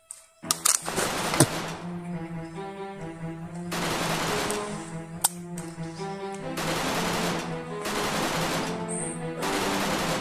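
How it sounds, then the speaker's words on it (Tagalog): Heavy video-game gunfire crackles in long, dense automatic bursts, loud and close, with several sustained volleys separated by brief gaps. "Yun, may nagpuputukan. Sobrang dami ng putok."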